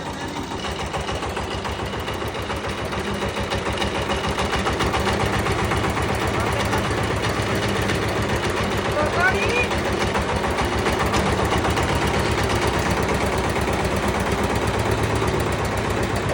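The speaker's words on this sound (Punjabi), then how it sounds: "ਮੈਂ ਟਾਹੇ ਸਟਾਰਟ ਕਰ ਲਿਆ ਹੁਣ ਚਲਾਉਣੇ ਆ ਇਹਨੂੰ" An imported tractor's engine idles after starting, with a steady, close, chugging diesel-like rhythm that holds even throughout, as voices are faintly heard in the background.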